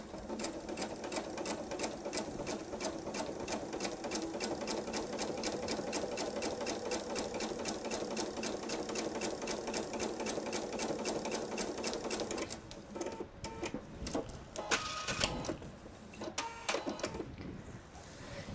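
A sewing machine stitches a patriotic nine patch quilt table runner with a fast, steady mechanical chatter for about twelve seconds, then slows into shorter stop-start bursts near the end.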